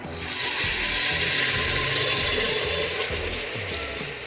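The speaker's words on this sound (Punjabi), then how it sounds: "ਹੁਣ ਆਪਾਂ ਇੱਥੇ ਗੁੜ ਵਾਲਾ ਪਾਣੀ ਪਾ ਦੇਵਾਂਗੇ" Jaggery water poured through a strainer into roasted broken-wheat porridge in a pressure cooker, a loud, continuous splashing hiss with a rattling, gritty undertone that eases slightly toward the end.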